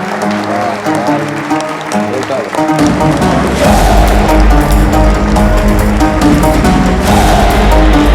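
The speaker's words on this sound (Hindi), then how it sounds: "तालियां।" Loud applause from a crowd at a wedding-day gathering breaks out over background music, growing into a dense, sustained clapping wash after a few seconds, with voices mixed in.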